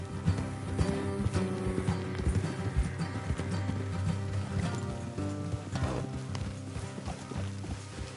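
Steady clip-clop of horse hooves in Red Dead Redemption II over a busy layered backdrop, a rhythmic trot continuing throughout without speech.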